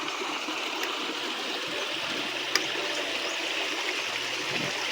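Water from a hot spring at Unhavare near Dapoli flows down into a river or creek, a soft continuous trickling and splashing hiss with one brief knock midway and no speech.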